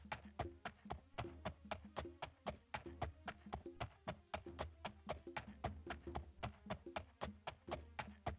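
A horse's hooves clip-clopping at a steady trot while ridden in the 1996 PC game The Elder Scrolls II: Daggerfall, an even, rhythmic series of sharp close knocks with no pauses.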